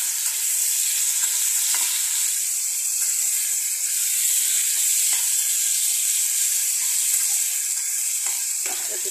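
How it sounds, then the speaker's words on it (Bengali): Potato pieces and soybean chunks fry in hot oil in a pan, a continuous loud sizzle and hiss with occasional clinks and scrapes of stirring, no voices. "আলু লাল লাল করে ভেজে নিচ্ছি"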